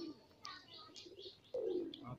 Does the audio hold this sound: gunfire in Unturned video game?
no